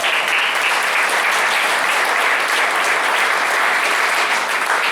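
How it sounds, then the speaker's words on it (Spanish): A congregation in a church in Chimalhuacán claps together, a dense, loud, sustained burst of applause that fills the whole stretch evenly. "Dale palmas al que vive."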